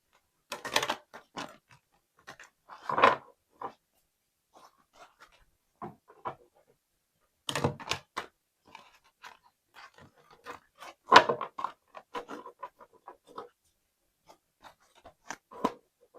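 Tarot cards being shuffled in short bursts of riffling and soft slaps, separated by quiet pauses, close and fairly faint.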